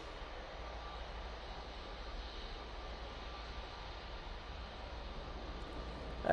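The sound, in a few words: airplane at Manchester Airport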